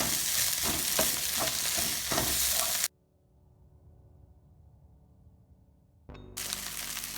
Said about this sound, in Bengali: ধনিয়া পাতা অ্যাড করে আরও কিছুক্ষণ আমরা এটাকে ভাজি করব